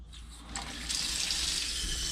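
A kitchen tap runs into a small pot, with a soft splash at first that swells into a steady, hissing stream of water filling it, close by and without voices.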